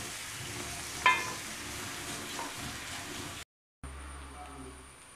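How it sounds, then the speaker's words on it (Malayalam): Beef fry with masala stirred in a large pan, a soft continuous sizzle with one sharp clank of the spoon early on, then a brief cut to a quieter hum. "ഞാൻ ഒന്ന് ഇളക്കി ഒന്ന് ഈ മൊരിച്ചെടുത്തിട്ട് ഈ മസാലയൊക്കെ കൂടി ഒന്ന്"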